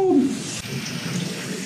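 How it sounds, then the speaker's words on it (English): Shower water running steadily, a continuous hiss of spray falling in a bathroom, fairly close, with a brief vocal sound at the start. "So I'm gonna take a shower with it."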